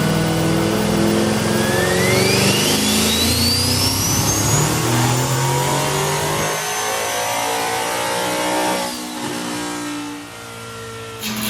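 A single-turbo work truck with its boost controller off accelerates hard, the engine roaring loud and close as the turbo whistle climbs sharply, then the revs fall away and fade.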